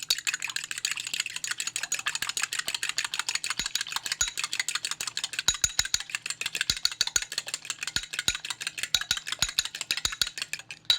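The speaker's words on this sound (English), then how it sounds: "Now I'm going to use a fork and just whip them up." A fork whisks eggs in a bowl with rapid, light, fairly regular clicking taps that run continuously, close and clear, with no talking.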